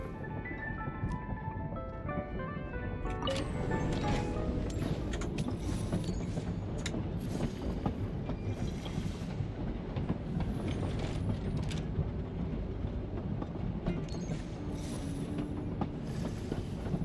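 A train in Genshin Impact pulling in and coming to a stop, with a steady mechanical rumble, metallic creaks and hissing brake sounds sustained throughout, near and fairly loud.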